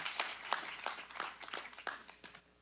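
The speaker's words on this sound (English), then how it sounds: "round of applause" Scattered clapping from a small audience at a county supervisors meeting, distinct individual claps in an uneven rhythm that thin out toward the end, with no voices over it.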